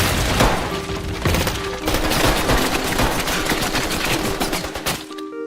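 Sustained gunfire in a film scene as police surround Pablo Escobar's rooftop hideout: dense, loud bursts of automatic and rapid shots with heavy booms, continuous and close, stopping abruptly near the end.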